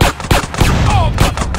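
Drive-by gunfire crackles in rapid bursts from a passing gang vehicle in GTA San Andreas, loud and close, with a brief whine and other street noise mixed in.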